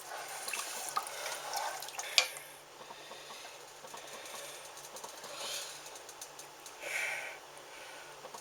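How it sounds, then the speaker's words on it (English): Diced skinned plum tomatoes are stirred together in a pot, giving soft wet sloshing and liquid swirling with occasional faint clinks, quiet and close, with no voices. "And we're going to stir all that together."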